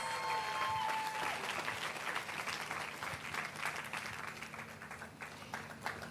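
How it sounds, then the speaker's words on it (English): Audience applause at a women's creative event livestream, steady dense clapping from a crowd throughout, moderately loud and continuous with no talk over it. "Please, can we give her another resounding round of applause?"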